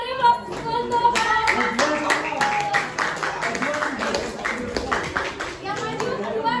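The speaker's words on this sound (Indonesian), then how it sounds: "Beri aplaus untuk kelompok 2" Group applause and clapping in a school classroom for a student group, dense and steady with children's voices mixed in throughout.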